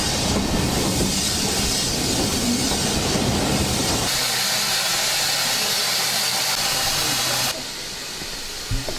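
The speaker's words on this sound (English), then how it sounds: "here is the train" A steam train runs past at close range, a loud broadband rush of hissing steam and rolling rail noise with steady clatter, easing slightly toward the end.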